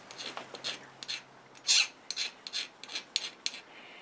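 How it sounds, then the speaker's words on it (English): A hand file deburrs the edge of a freshly cut metal part in a workshop, about a dozen short, close rasping strokes in a quick uneven rhythm, one louder than the rest, no talking. "Just got to deburr that"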